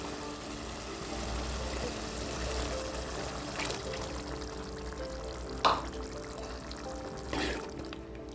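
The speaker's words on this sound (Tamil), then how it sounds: "இனி புளி தண்ணி சேர்த்துக்கலாம்." A steady low rumble of tamarind water being poured into a hot pan of bitter gourd, with a soft continuous bubbling texture and a couple of brief clinks.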